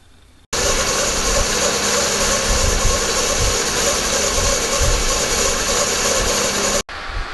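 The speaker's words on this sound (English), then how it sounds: "I could do this on the router table, but my milling machine is way more accurate." A milling machine cuts a thermoplastic plate in a single pass, a steady grinding motor drone with low rumbling pulses that starts abruptly and cuts off just as suddenly.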